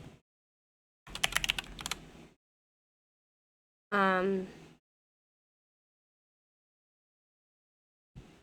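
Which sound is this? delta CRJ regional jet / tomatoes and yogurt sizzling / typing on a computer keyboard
typing on a computer keyboard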